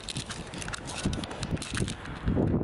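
Wind buffets the microphone in rough, uneven gusts, close and moderately loud, with no other clear sound.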